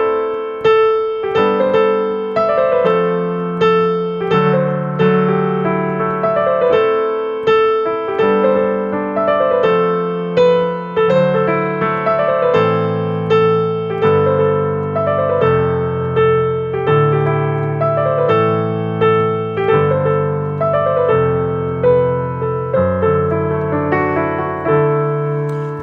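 A melody plays alone on a bright synth or piano-like instrument, a steady stream of repeated notes over sustained lower chords, loud and close with no voices.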